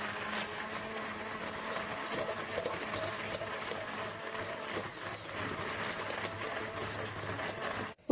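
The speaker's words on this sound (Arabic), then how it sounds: "هنضربها بقى مع بعض ضربه بسيطه جدا كده الاول قبل ما نحط بقيه المقادير" Eggs are beaten with lemon zest and salt for a cake batter, giving a steady, buzzing whir of whisking that runs continuously at moderate volume until a sudden stop at the end.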